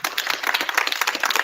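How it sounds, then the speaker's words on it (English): Brief burst of audience clapping at an evening event, dense overlapping claps at steady loudness with no talk over it. "Give yourselves a round of applause for tonight as well."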